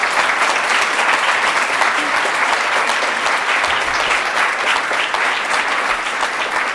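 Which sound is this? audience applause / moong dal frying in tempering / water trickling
audience applause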